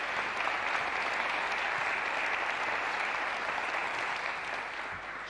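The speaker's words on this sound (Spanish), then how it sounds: "Un enorme aplauso para ellas y para ellos." Audience applause at an official agreement-signing ceremony for International Women's Day: steady, dense clapping from a large crowd, sustained and even throughout before easing slightly at the end.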